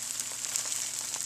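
Steady crackling sizzle of veal brains frying in hot oil over medium heat, a dense, even hiss with small pops, continuous and fairly close.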